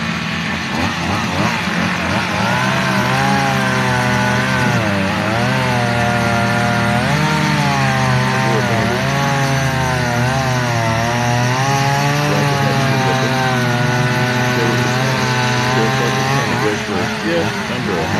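Loud chainsaw working through wood during a lumberjack-style timber show, the engine droning steadily with wavering pitch as it cuts, while someone talks over it.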